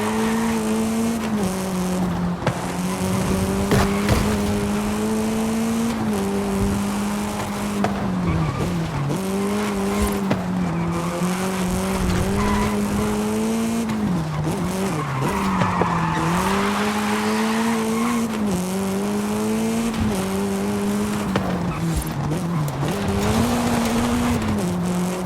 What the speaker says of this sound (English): can almost hear the giant wheels of the monster ghost